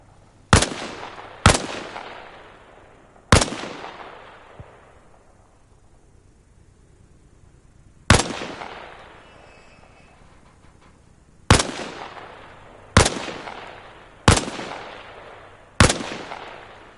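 Single rifle shots fired at targets on a training range in Arma Reforger, eight sharp loud cracks spaced irregularly with ringing decays, no voices.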